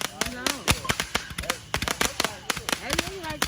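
July 4th fireworks going off in a backyard, a rapid run of sharp cracks and pops, some near and loud, others fainter, with whistling rockets climbing between the bangs and voices in the background.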